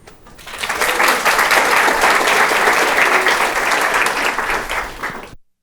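Audience at a 2019 data conference applauding as a speaker is welcomed to the stage: loud, dense, sustained clapping from a large crowd that swells quickly, holds for several seconds, then stops abruptly.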